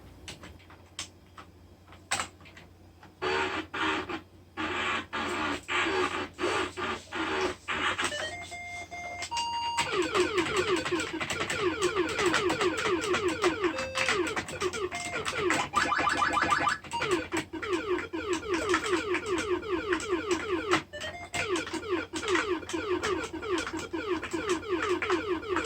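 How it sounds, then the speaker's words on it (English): Beeping, chirping PC speaker tones from the DOS vertical shooter Sealfeed on a 1994 IBM PS/ValuePoint 466DX2, with rapid electronic blips and sweeping square-wave effects running continuously, loud and alone. "Here it is, Sealfeed, a vertical shooter for DOS, which I find to be very pleasing. And hear those PC speaker sounds."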